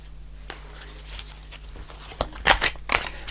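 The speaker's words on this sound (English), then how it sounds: "I'm going to keep shuffling today." Tarot cards are shuffled at close range during a reading, a quiet papery patter that swells into a few louder riffling bursts near the end, with no voices.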